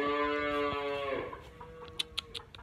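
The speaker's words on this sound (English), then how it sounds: "We've got some chickens taking over the cow pens." Chickens in a farm's cow pens: a drawn-out harmonic call fades over the first second, followed by several sharp clucks at moderate distance.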